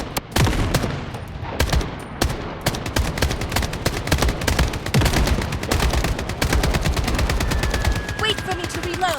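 Dense, rapid gunfire from the Blood Strike shooter game, with continuous automatic bursts and sharp single shots layered over one another, loud and close throughout with no pause.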